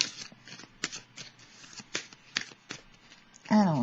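Tarot cards are shuffled by hand in quick, uneven riffles and slaps, close and crisp. A voice begins talking right at the end.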